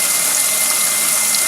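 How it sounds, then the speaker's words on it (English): Cold well water runs steadily from a tap into a filling sink, a constant close hiss and rush with no pauses and no voices. "we're going to fill this sink with cold water"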